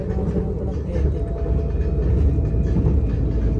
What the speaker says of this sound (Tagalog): Nandito kami sa LRT.